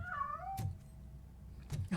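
A frightened cat in RoboCop: Rogue City lets out a drawn-out, wavering meow, followed by quieter faint thumps and a short second sound near the end, fairly clear against a quiet background.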